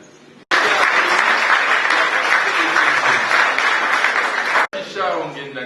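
Loud audience applause for a professor at a book presentation ceremony, starting abruptly and holding dense and even for about four seconds before cutting off, with voices talking briefly around it.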